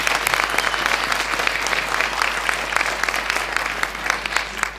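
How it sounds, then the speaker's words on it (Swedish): Sustained audience applause at a Safer Internet Day 2012 event, a dense steady patter of many hands clapping close and loud for several seconds with no talk over it. "kan jag ge henne en applåd på svart"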